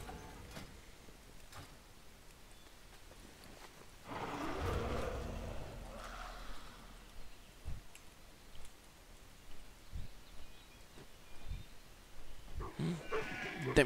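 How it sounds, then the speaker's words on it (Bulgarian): Sheep bleating in a multiplayer video game where wolves attack a flock: faint, thin bleats rise in a short burst midway, over a quiet background with scattered clicks. "Не можах да спася една овца."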